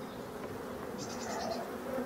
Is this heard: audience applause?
no